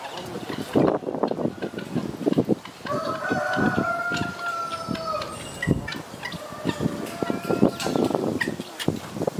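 Chickens cluck and a rooster crows at a zoo in Tarsus, with a long drawn-out crow in the middle, amid people talking and general outdoor bustle.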